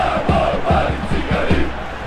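Fans of Radnički and Crvena zvezda chant in a stadium crowd inside the PES football video game, a dense, steady roar with rhythmic pulsing shouts repeating about every quarter second, loud and continuous.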